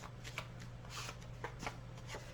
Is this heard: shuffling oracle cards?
yes